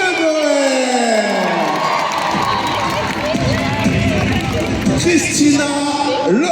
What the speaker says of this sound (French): Merci de faire un tonnerre d'applaudissements pour Ludo Deborah.